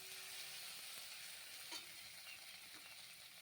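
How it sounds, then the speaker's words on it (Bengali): Spices, chili powder, cumin paste and green chilies fry in a pan with a soft, steady sizzle and faint stirring taps, quiet and close, with no talking. "সব কিছু ভালোভাবে একটু ভেজে নেব।"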